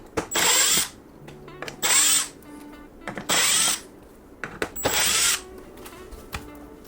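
A cordless power drill backs out the screws holding a fifth-generation truck tail light, four loud whirring bursts with short pauses between, each ending in a ratcheting clutch click, close and clear with no talk.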